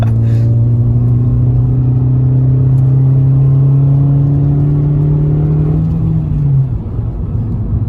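A Fiat Panda 100HP at Oulton Park race circuit, engine droning loud and steady from inside the car with a rising tonal whine held for several seconds before easing off.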